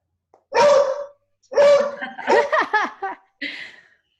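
A dog barks several times nearby on a video call, loud sharp bursts in quick succession with a short pause before a final bark.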